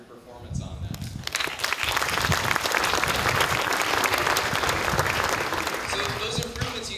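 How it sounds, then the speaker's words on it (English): Audience applause at a safety stand-down gathering: dense, loud clapping that builds within the first second and holds steady to the end, with no one speaking over it. "I think you guys deserve a round of applause for your performance on that."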